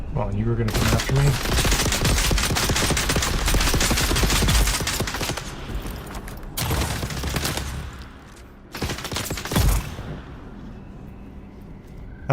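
A mounted turret in Dune Awakening fires sustained rapid bursts, a dense loud rattle of automatic fire that breaks off into shorter volleys, with a voice speaking under the gunfire.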